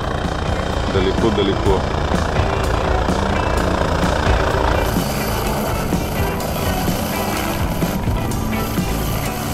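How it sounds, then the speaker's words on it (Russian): A loud helicopter engine whines and thumps continuously, close by, with a voice speaking briefly over the din. "Сегодня за нами прилетел вертолетик."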